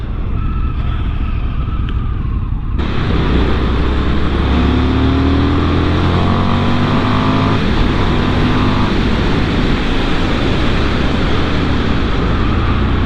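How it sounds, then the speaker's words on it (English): An Indian FTR 1200 S motorcycle under throttle during a test ride, a loud rising engine growl joining heavy wind rush after a few seconds and staying strong to the end, with no talking. "when you open the throttle you do get that punchy growl to it."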